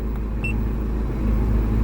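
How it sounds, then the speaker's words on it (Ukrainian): A 2012 ZAZ Forza running on petrol and gas idles with a steady low rumble while switching over to gas, marked only by one brief, faint click early on. "можу вам навіть продемонструвати, як машинка переключається на газ"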